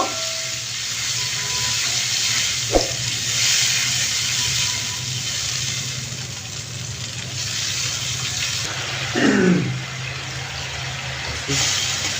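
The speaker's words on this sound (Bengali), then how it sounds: "এই পেস্টটা দিয়ে দিচ্ছি একটু কষিয়ে নিব" Tomato paste sautéing in a pan for a Bengali egg bhuna gives a steady, close hiss, with a couple of brief utensil knocks against the pan.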